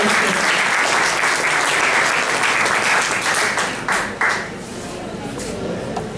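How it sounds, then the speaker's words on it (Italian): An audience at a cultural salon event in San Michele, Aprilia, bursts into loud, sustained applause for an artist. The dense clapping fills the room for several seconds while a voice speaks over it. "Un grande applauso per un grande artista."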